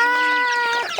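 A chicken clucks up close in one short burst of throaty, slightly nasal calls, loud and clear with no voices.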